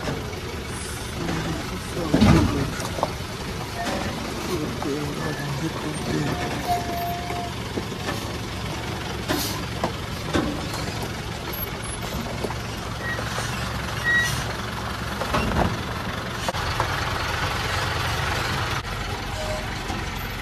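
A loaded tipper truck grinds along a rough unpaved road, its engine rumbling steadily with bumps, rattles and a few knocks, while someone talks over the noise.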